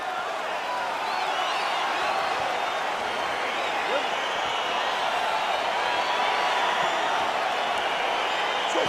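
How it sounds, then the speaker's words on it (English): A virtual arena crowd at a UFC fight in a PS5 UFC video game roars and cheers steadily as the bout begins, a dense, continuous wash of noise with no break. "Crowd getting excited as this fight gets underway"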